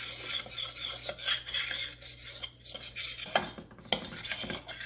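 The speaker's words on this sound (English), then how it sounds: "I'm going to add just a little bit of cold milk. This is whole milk. And I want to just combine it to make a paste." Flour and cold whole milk being stirred into a paste in a pan, a steady scraping and clinking of utensil against metal with soft irregular taps, close and alone without talk.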